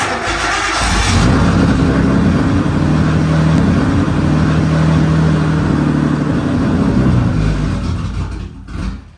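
A restored car's engine runs steadily and loudly up close for most of the stretch, a dense continuous mechanical roar that drops away near the end.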